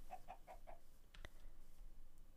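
Chickens in Minecraft give a quick run of four soft clucks, followed by a brief sharp click, quiet against a low background.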